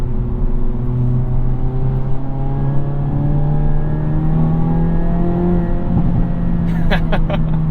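A 2022 Hyundai Elantra N with a six-speed manual, engine droning steadily and close with a slowly rising pitch under light acceleration, followed by a few sharp crackling pops near the end.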